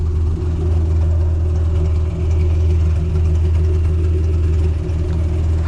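Loud aftermarket exhaust on a modified 1992 Acura NSX, a deep, steady droning rumble held at constant engine speed, close and continuous with no talking.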